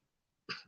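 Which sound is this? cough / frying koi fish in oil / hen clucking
cough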